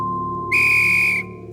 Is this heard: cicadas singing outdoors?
no